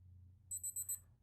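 A Casio LWS-2200H digital wristwatch timer goes off with three quick, high, thin electronic beeps over a quiet low hum.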